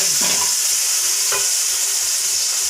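Jackfruit pieces stirred in hot ghee for a Kerala-style payasam, giving a steady background sizzle broken by two or three close scraping strokes of the spoon against the pan, with no voices.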